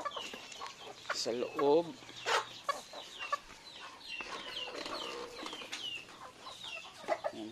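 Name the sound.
chickens clucking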